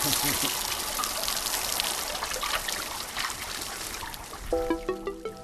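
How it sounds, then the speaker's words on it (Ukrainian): A garden hose sprays water onto ostriches at the Yasnohorodka eco-park near Kyiv on a hot day, making a steady, close hiss of falling spray. A brief tonal sound rises near the end. "У спеку працівники поливають їх водою зі шланги."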